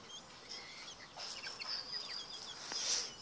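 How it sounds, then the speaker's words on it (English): A flock of chickens clucks and squawks close by, with scattered sharp calls over a steady, noisy background, moderately loud throughout. "The alpha chicken."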